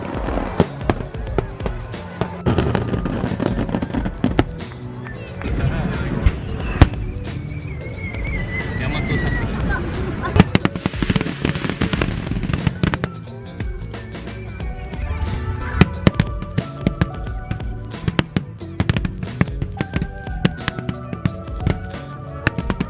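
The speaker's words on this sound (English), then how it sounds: "If you get the chance to look at fireworks in Japan, definitely go." A summer fireworks display in Tokyo, Japan, with a dense run of booming and crackling bursts that keeps going for over twenty seconds, joined by crowd voices.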